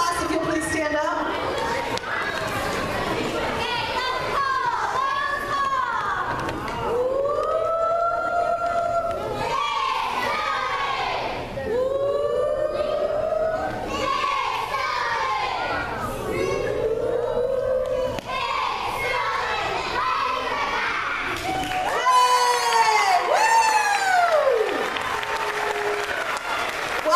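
A school class chanting a spirited cheer together at a pep rally, rhythmic young voices rising and falling in repeated phrases over steady crowd noise and clapping, with a louder burst of shouting near the end.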